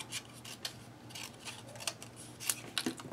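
Scissors snipping paper during a Christmas scrapbooking craft session, a series of short dry rasping cuts spaced irregularly, close and fairly quiet, with no talking.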